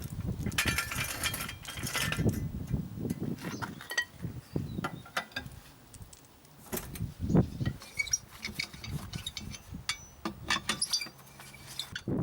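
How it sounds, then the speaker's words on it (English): Car wheel bolts are removed by hand with a wrench while the front is jacked up, giving scattered metallic clinks and ratcheting clicks at close range. "Jack up the front and remove the wheel bolts."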